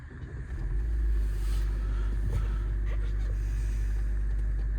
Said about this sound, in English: I'm going to start it up for you now so you can hopefully hear it run.